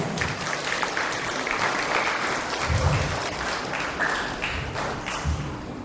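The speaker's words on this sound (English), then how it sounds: "So give yourselves a round of applause." Audience at an Apex Education NGSA graduation ceremony gives a long, steady round of applause, many hands clapping densely with a few thumps, moderately distant in a large hall.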